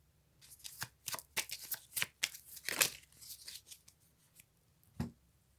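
Playing cards shuffled by hand close up, a series of soft, papery riffles and flicks in an irregular rhythm, trailing off before one last sharp snap, with no talking.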